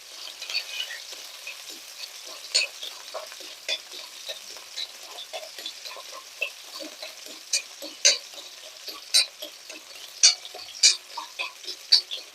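Small onions sautéing in a pan for drumstick-leaf (murungai keerai) chutney: a steady soft sizzle broken by frequent sharp scrapes and taps of a spoon stirring them, close and moderately loud, with no talking.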